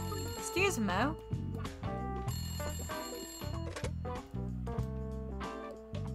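A phone keeps ringing in the Layton Brothers: Mystery Room video game, steady electronic bell bursts over game music, while someone talks briefly over it.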